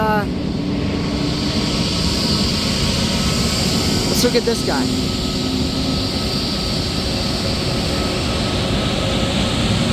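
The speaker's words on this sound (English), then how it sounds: "A C-17! I didn't know that was here today." Jet engines of a C-17 military transport aircraft roar steadily up close at an Alaska aviation day, a continuous loud broadband rumble with people talking and exclaiming over it.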